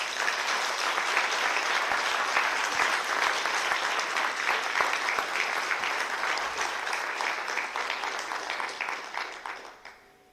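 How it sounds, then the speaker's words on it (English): A conference audience at a community meeting applauds a thesis award honorable mention, a full steady round of clapping in a room that tapers off and stops at the end. "But he probably deserves a round of applause anyway, guys."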